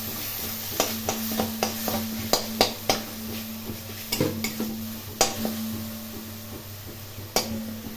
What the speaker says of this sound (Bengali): জিরে গুঁড়ো দিয়ে খুব ভালো করে ভেজে নেব